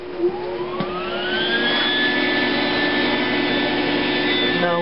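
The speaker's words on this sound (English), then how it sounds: "Now I'm going to turn the machine on, so I'm going to turn it all the way to number 10, my wire speed" A MIG 140 welder powers on with its wire feed set to top speed, a fan or motor whine rising in pitch then holding a steady close hum, with a click near the start.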